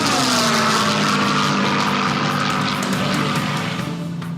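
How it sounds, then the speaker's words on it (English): A P-51 Mustang, a fast propeller-driven fighter used in air racing, roars steadily and loudly nearby, its engine drone and prop noise holding a constant pitch before easing slightly at the end. "The fabled Mustang was one of the fastest propeller-driven airplanes of the war."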